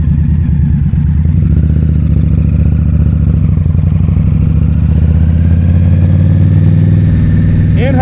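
An Indian Scout Bobber motorcycle engine rumbles steadily and loudly throughout while riding, a low, even drone with a faint clattering texture and no break.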